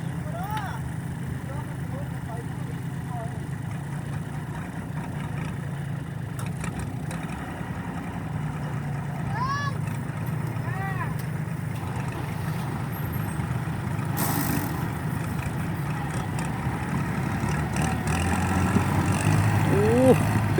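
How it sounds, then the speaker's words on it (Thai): An L36 tractor engine rumbles steadily at low pitch while a chain is rigged for a pull. The engine grows gradually louder toward the end, and people talk intermittently over it. "ตอนนี้ก็รถไถมาแล้วครับ"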